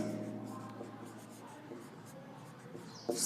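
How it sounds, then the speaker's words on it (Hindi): A country's name is written by hand on a map, soft scratchy strokes in short bursts over a low hum, ending in a sharper tap. "देश का नाम लिखेंगे"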